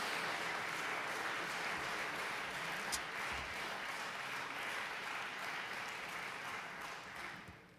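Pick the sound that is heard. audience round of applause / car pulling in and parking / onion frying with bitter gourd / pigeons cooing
audience round of applause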